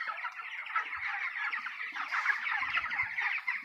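Many chickens cluck together in a poultry farm, a dense continuous chorus of overlapping clucks and murmurs at moderate distance, with no talk.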